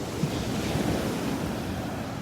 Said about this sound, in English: Let him sit out on the beach in his chair and listen to the waves